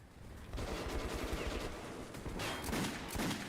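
Video game gunfire rattles steadily through the whole stretch in dense bursts, fairly quiet and with no talking over it.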